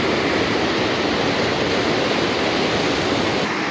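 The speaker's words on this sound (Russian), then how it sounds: "нельзя попасть в этот поток" The Sokuluk, a fast mountain river in Kyrgyzstan, roars close by as a loud, unbroken rush of white water that swamps everything else, with no voices.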